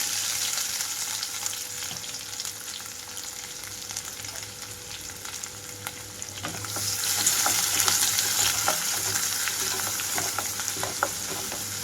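Onions, crushed garlic and green chillies sizzle steadily in a hot pan, a continuous close hiss that grows louder and more crackly partway through, with no one talking.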